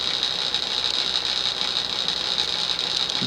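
A 1981 Emerson (Sears) plastic-bodied 40-inch ceiling fan, with a small K55B motor built for a 36-inch span, runs with a steady, even whirring hum that holds constant throughout, close and alone.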